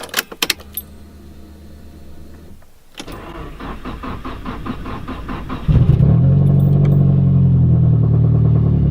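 Keys jingle and click before the Nissan 240SX, fitted with an SR engine swap, cranks over for a few seconds with a steady starter whir, then catches and settles into a loud, even idle close by.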